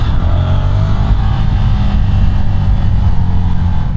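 Ducati Scrambler 1100 Pro motorcycle engine running steadily while riding, a loud continuous low rumble with no break, no voices over it.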